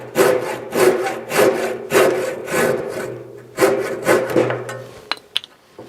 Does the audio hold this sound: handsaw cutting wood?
yes